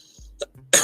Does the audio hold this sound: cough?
yes